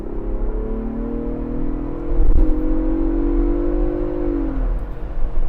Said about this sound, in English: you want to floor it with the 418 horsepower, 440 pound-feet of torque that you have, and might as well put it in the loud exhaust mode